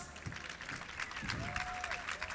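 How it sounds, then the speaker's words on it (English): An audience at a panel talk session claps in a continuous patter of applause that stays fairly faint and distant from start to finish. "can I hear a few more claps?"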